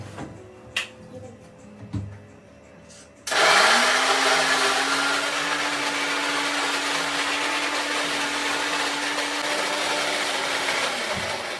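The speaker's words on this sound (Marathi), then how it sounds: "डायरेक्ट 390च्या स्पीडने कार्तिकीने मिक्सर फिरवलाय" A kitchen mixer grinder spins up abruptly after a few quiet seconds of small knocks, then runs at high speed as a loud, steady whine for about eight seconds before cutting off.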